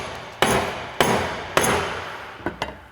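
A dead blow hammer strikes a drill press chuck to seat it on a DP:20 or DX:20 drill press: three firm, close, evenly spaced blows, then two lighter quick taps.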